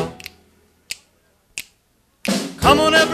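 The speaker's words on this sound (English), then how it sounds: "Come on, everybody, and snap your fingers now." Three sharp, isolated finger snaps in a 1950s studio recording session, spaced evenly and fairly close, followed by singing that cuts in.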